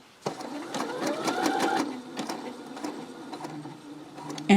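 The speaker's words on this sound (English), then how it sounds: "I'm going to hit go, and it is going to stitch the button." Brother SE625 sewing and embroidery machine stitching a button onto fabric: a short burst of whirring motor and rapid needle clatter up close, then quieter mechanical ticks.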